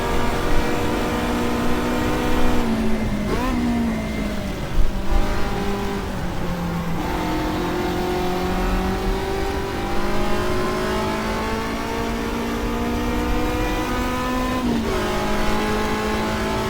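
1967 race cars lapping Silverstone in GTR2, a loud steady engine drone near the listener, with a few gear changes and brief dips as the car accelerates along the circuit.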